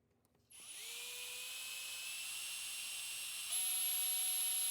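A power drill drilling through metal whines steadily at high pitch, starting abruptly after a moment of quiet and rising in pitch near the end, loud and continuous.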